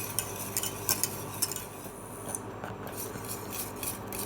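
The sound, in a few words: stirring rice pudding in a pan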